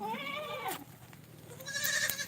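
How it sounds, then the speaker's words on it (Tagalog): A goat bleats twice nearby, first a long wavering cry and then a shorter, higher one after a brief pause. "Ay, yan, ang kambing."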